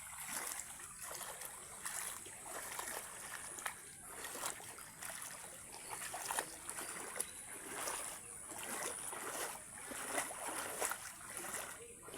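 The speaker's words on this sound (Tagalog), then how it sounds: "Oh, ang tubig oh. Baha." A steady rush of flowing floodwater with soft splashing runs throughout, faint and somewhat distant, with no talking.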